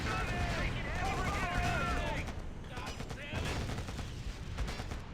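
Gunfire in the real-time strategy game Act of War: High Treason, with bursts of shots and rattling fusillades under shouted unit voice lines and battlefield noise, fairly loud throughout.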